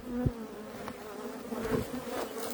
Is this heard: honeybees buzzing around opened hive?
yes